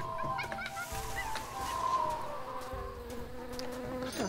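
Bees buzz in the Tales of Monkey Island video game, a soft, wavering drone with fluttering tones and a few brief chirps, quiet and continuous without voices.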